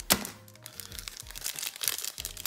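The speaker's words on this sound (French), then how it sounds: "il nous reste 8 boosters à déballer, les 4 là et les 4 qui restent là à droite" A Pokémon card booster pack from the EB10 set is torn open and unwrapped. Quiet, close foil crinkles and sharp crackling tears come in irregular bursts with short pauses between them.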